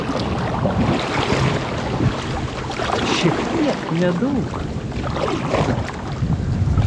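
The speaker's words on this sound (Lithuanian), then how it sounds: "Nu čia toks vėjas iš tikro." Wind gusts steadily across Pakasas lake, a loud, continuous roar buffeting the microphone, with brief talk partway through.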